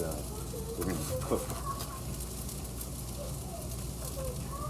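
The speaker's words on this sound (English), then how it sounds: "here, we're going to add the steak" Steak sizzling in a pan with garlic fried rice, a continuous bright frying hiss with spatula scrapes and clatter in the first half, fairly close and steady.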